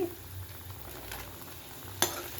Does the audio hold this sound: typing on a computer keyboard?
no